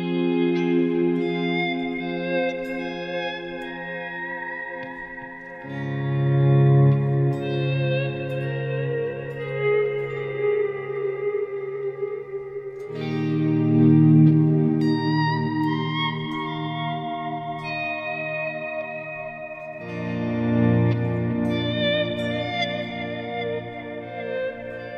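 Ambient electric guitar volume swells through a volume pedal, ping pong delay and reverb, with four slow, wide chords fading in one after another and washing into long echoing tails, played alone with no voices.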